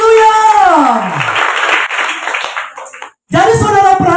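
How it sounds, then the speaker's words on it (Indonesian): Audience clapping during a Christmas youth church service, a brief burst of hands clapping between loud, sweeping spoken or sung voice, cut off by a short silence before the voice resumes. "Sekali lagi berikan tepuk tangan yang meriah begitu"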